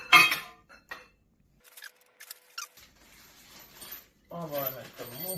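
A brief metallic jingle of keys rings out once, close and clear, during assembly of a collection rack. Quiet rustling handling sounds follow, and a voice talks near the end.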